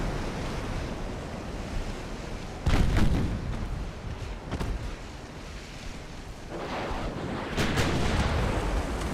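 Deep, rumbling torpedo explosions in the naval video game Ultimate Admiral: Dreadnoughts burst through a constant roar of ocean surf and wind, with a few heavy thuds spaced several seconds apart and no voices.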